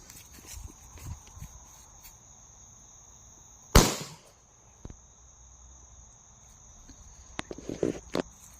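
A 3D printed .25 caliber mini cannon loaded with firecracker flash powder fires once with a single sharp, loud bang, followed by faint clatter, with crickets chirping steadily outdoors around it.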